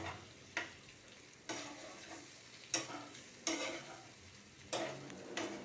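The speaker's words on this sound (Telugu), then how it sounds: "బాగా కింద పైన కలిపి వేగుతుంది." Potatoes fry and sizzle in a pan with spices, salt, turmeric and chili, broken by several sharp scraping stirs of a spoon; steady close sizzle, no talk.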